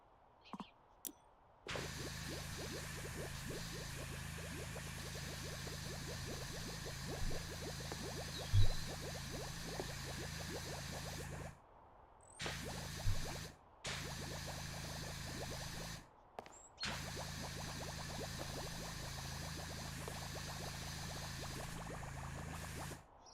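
Pressure washer spraying wood cleaner soap over wood, a steady hissing wash of spray in long bursts broken by short pauses, close and fairly loud, with a few faint knocks.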